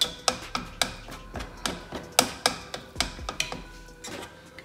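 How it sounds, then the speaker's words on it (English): A pav bhaji masher pounds cooked vegetables in a pan, giving a steady run of about fifteen sharp thuds, each with a short ringing decay, evenly spaced and close by. "with this pav bhaji masher, I just mash these vegetables"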